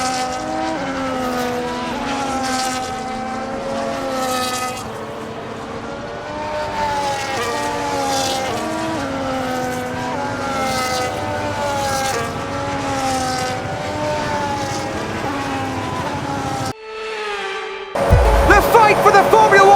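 F1 cars in the F1 25 video game launch off the grid at the start of the Mexico City Grand Prix, a dense sustained roar of engines with rising and falling pitches, loud throughout, and brief tyre noise near the end.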